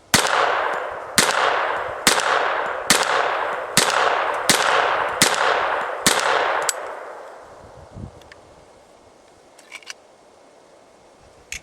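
Eight rapid, evenly spaced gunshots from a MechTech carbine conversion unit on a .45 1911 pistol, loud and sharp with ringing decay, followed by quieter metallic clicks and handling sounds.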